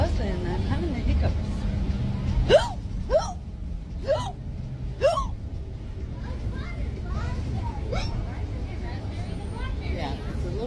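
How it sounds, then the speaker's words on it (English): Repeated hiccups sound close up on a crowded city transit bus, several sharp rising gulps a second or so apart, over the constant low rumble of the bus engine and faint passenger chatter. "I'm having the hiccups."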